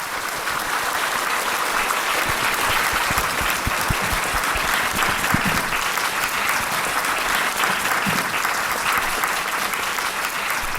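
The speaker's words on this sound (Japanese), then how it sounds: "皆様、リンポチェに改めて盛大な拍手をお願いいたします" An audience claps for a Rinpoche at the close of a Buddhist prayer ceremony, giving sustained, dense applause from a large crowd that fills the hall evenly for about ten seconds.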